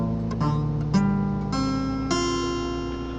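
A capoed guitar with its top two strings tuned up rings out a sequence of plucked notes and chords, each attack clear and sustaining, played close with no voices.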